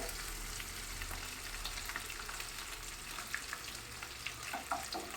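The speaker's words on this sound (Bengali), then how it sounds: "আলুটা একটু ভাজা ভাজা" Steady sizzling of potatoes frying in oil, a continuous close hiss with occasional soft pops and stirring scrapes, no voices.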